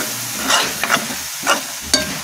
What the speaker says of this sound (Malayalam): ഇത് തീ ഫുൾ ഫ്ലെയിമിലാക്കി ഇതൊന്ന് ഇളക്കി